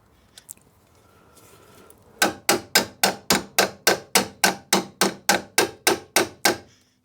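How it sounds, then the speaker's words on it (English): A hammer repeatedly strikes a part on a Rover 75 car, a steady series of about fifteen loud, sharp metallic blows at an even rhythm after a quieter lead-in. "Hit it with a hammer."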